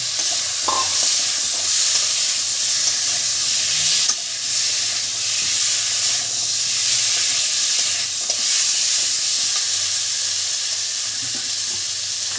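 Potatoes and spice paste sizzle steadily in a pan for a broccoli fish curry, a continuous loud frying hiss with intermittent stirring scrapes, close and without talk.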